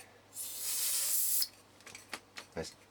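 Contact cleaner spurts from a nearly empty aerosol can in one loud hissing burst of about a second, followed by several short, weak sputtering puffs as the can runs dry.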